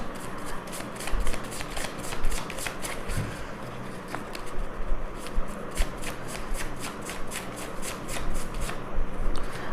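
Tarot cards are shuffled and drawn close by, producing a continuous run of rapid, rhythmic riffling flutters throughout.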